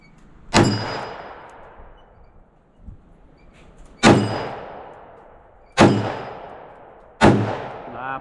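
Four sharp gunshots from a .357 Magnum revolver firing Fiocchi Defense Dynamics rounds at an outdoor range, each a loud close crack followed by a long decaying echo, spaced irregularly several seconds apart.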